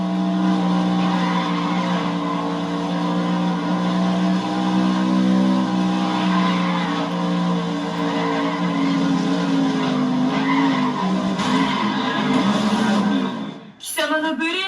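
Race cars in a racing video game drone loudly and steadily through a lap of drafting, their engines holding a constant pitch with some tire squeal. A short sharp burst comes near the end, just before the sound cuts out.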